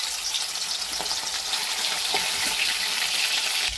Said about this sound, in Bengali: তেল গরম হয়ে গেছে, প্রথমে কটা চিংড়ি মাছ ভেজে নেব।